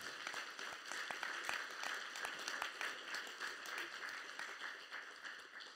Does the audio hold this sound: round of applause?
yes